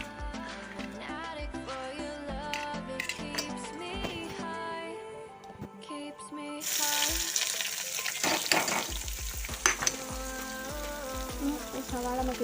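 Chopped onion hits a hot pan and breaks into a loud, steady sizzle partway through, after a stretch of plain tune, with background music playing throughout.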